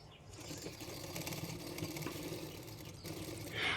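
A sewing machine stitches a blouse for a fitting, giving a soft, continuous mechanical whir with a steady stitching rhythm, heard fairly faint and close with no talking.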